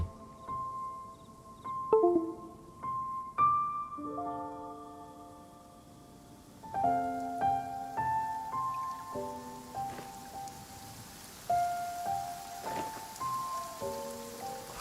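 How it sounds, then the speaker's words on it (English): Heavy downpour in Genshin Impact drumming steadily on surfaces, with a soft in-game musical melody of bright plucked notes layered over the rain throughout. "Quite a downpour."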